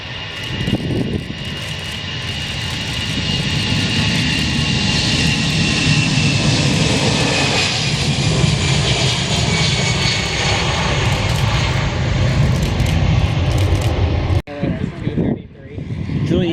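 Allegiant airliner jet engines run at high power close by at an airport, a loud sustained roar with a steady whine that holds for about fourteen seconds before easing, with people talking faintly underneath.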